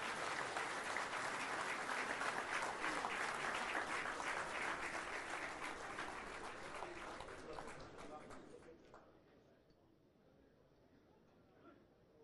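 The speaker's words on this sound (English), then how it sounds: "As both the Prime Ministers leave the hall, let's bid them adieu with a huge round of applause" A large audience at an India–Israel business event gives a huge round of applause as two prime ministers leave the hall, loud and sustained, then fading out after about eight seconds to a quiet murmur.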